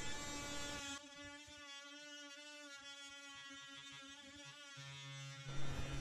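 A steady, high whining buzz from a power tool cutting tile along a grout line for a tub access panel. Its pitch shifts slightly as it bites and eases, close and continuous, with no talk.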